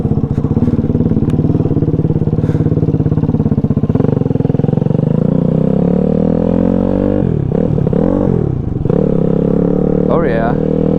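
Grom clone motorcycle fitted with a Daytona 190cc four-valve engine, ridden on a first ride: a loud, steady close engine drone with the pitch climbing and dipping through gear changes, voices faintly underneath.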